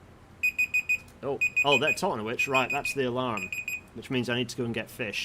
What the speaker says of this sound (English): Right, that's the alarm.